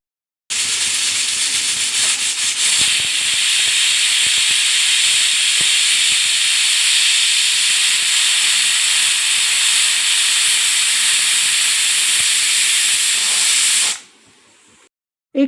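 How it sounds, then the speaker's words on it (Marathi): A pressure cooker of moong dal khichdi on a gas stove lets off a loud, steady rush of steam for about fourteen seconds, then cuts off abruptly and leaves near silence. "आता मी झाकण लावून या कुकरच्या आता 2 शिट्ट्या करून घेते।"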